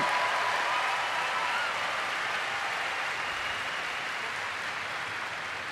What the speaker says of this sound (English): Appreciated by the crowd, taking applause there.